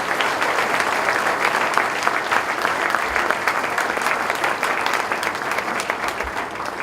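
A congregation at a church healing service breaks into loud, sustained applause, a dense wash of many hands clapping throughout with no talk over it.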